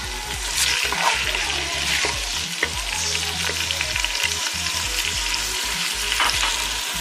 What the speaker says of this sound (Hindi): ऑयल गर्म होते ही मैं इसमें प्याज डाल दूँगी।